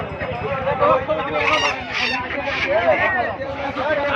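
Ducks and chickens at a busy rural poultry market in Mahadebpur, with loud honking quacks and squawks close by, repeated over a background of crowd chatter and voices.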